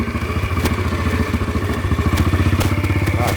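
A motorcycle engine runs with a rhythmic, throbbing pulse, close and fairly loud, with occasional sharp clicks over the steady beat.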